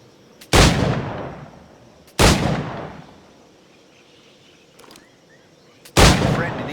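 Period firearm shots in Assassin's Creed IV Black Flag: three loud, booming gunshots spaced a couple of seconds apart, each with a long decaying tail, plus a softer thud between, over quiet ambient background.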